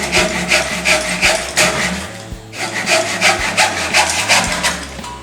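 Close, steady strokes of a hand saw rasp through a wooden door threshold in a partition frame, the rhythmic cutting going on without talk apart from one brief pause.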